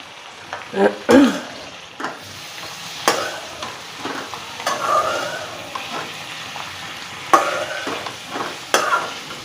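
Chopped onions and tomatoes fry with bitter gourd in a pan, giving a steady soft sizzle under repeated scraping stir strokes that come in louder bursts. No one talks.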